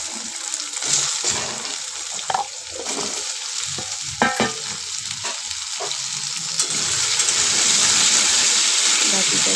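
Taro (gathi) pieces dropped into hot oil with black cumin, frying with a loud, continuous hissing crackle that swells and stays strong, punctuated by a few stirring knocks, close by.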